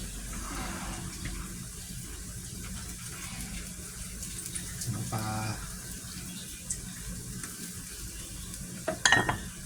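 Fish sauce is poured into a sizzling Thai basil minced pork stir-fry. A steady frying hiss swells briefly as the liquid hits the pan, with faint stirring and a sharp clink near the end.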